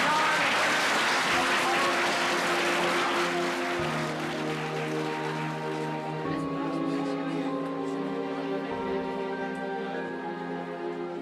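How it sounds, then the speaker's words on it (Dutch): An audience applauds at the end of a theatre scene by the Noorder Compagnie, loud dense clapping at first that gradually thins out as sustained musical tones take over. "Applaus."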